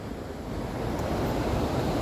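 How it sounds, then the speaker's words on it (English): Bow Falls waterfall gives a steady, broadband roar of rushing water that swells slightly and holds loud and close throughout, with no talking over it. "You see the waterfall? Yeah. It's pretty amazing, Max."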